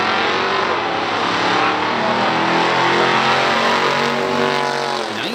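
A 1963 Studebaker Avanti with a V8 roars down the strip in a stock drag race, a loud sustained engine howl climbing through the gears, close and continuous before tailing off at the end.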